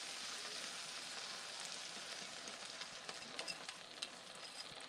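Eggs frying in a pan on a stove, a steady close sizzle with faint crackles that build slightly toward the end, heard alone without talk.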